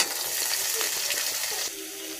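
Chopped onion and green chili sizzling in hot oil with cumin, a continuous close hiss and crackle with faint stirring; no one speaks.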